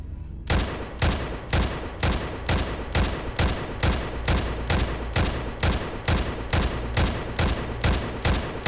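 Gunfire in the Fallout: New Vegas Tale of Two Wastelands mod: a steady run of loud, evenly spaced shots, about two per second, keeps up without a break and nobody speaks.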